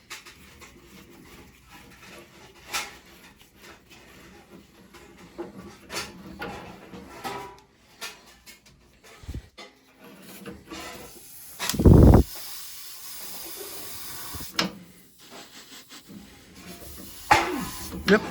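A gas boiler converted from oil lights with a sharp, loud burst of ignition whoosh midway, standing out from a quiet room with scattered clicks and faint background noise.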